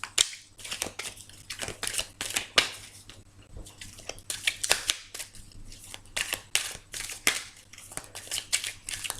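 A deck of tarot cards shuffled by hand nearby, making a long run of crisp, rapid flicking and riffling bursts in an irregular rhythm, with no talking.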